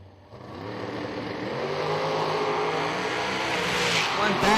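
A 2014 American dragster at a drag strip event makes a loud, sustained engine roar that builds steadily over several seconds, with a commentator talking over it.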